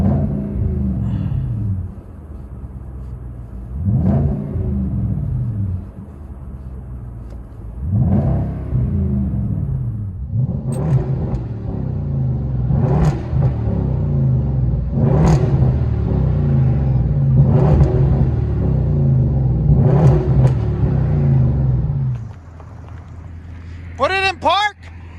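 Hyundai Genesis/Equus V8, 4.6L or 5.0L, heard from inside the cabin, its engine rumbling and revving in several rising surges over a steady low drone, with occasional voices.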